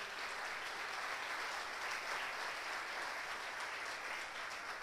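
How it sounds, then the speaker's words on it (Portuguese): Congregation applauding during a church sermon, a continuous wash of clapping from many hands, fairly faint and distant, holding steady throughout. "Pode aplaudir a Deus."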